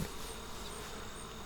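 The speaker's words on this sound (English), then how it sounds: "All the bees here coming to the entrance." Honey bees buzzing at the entrance of a top bar hive, a faint, continuous hum of many wings close by, even and unbroken throughout.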